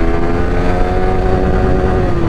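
A Yamaha R15 V3 motorcycle revs its exhaust up close, a loud, sustained high-RPM engine whine with a steady buzzing tone that holds without pause.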